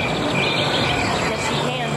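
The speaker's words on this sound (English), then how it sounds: "Oh, you can hear the crickets." A dense, continuous chorus of crickets chirping outdoors at a haunted house attraction in Indianapolis, Indiana, steady and fairly loud, with a faint hum of background noise.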